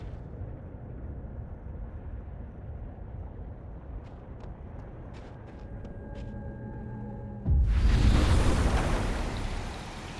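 A psychic storm power effect from the game Life is Strange: Double Exposure: a steady low rumbling game ambience with faint tones, then a sudden loud, roaring burst that swells and slowly fades over the last few seconds.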